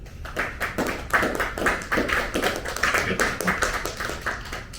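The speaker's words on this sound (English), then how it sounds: "give yourselves a round of applause" A small audience at a credit card and loan workshop giving a round of applause, with distinct individual claps overlapping in an uneven patter at a moderate, steady level for several seconds.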